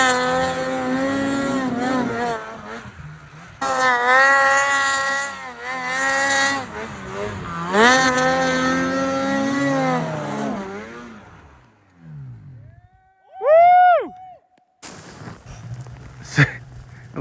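Snowmobile engines rev and drone steadily while riding through snow near a creek, with rising and falling pitch sweeps, a brief gap, then a quick high whine as a sled passes.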